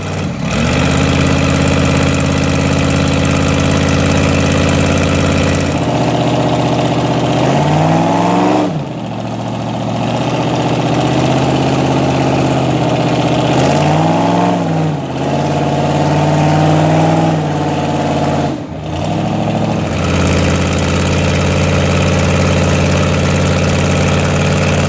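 A buggy's engine revs hard and steadily while the vehicle is winched out of thick gumbo mud, a loud, sustained drone with rising and falling throttle swells over about twenty-five seconds.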